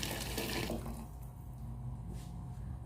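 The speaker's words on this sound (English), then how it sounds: "I just add some boiled water." Boiled water poured into a pot holding cow leg for afang soup, a short splashing pour that is loud at first and then settles into a quieter watery trickle, faint overall.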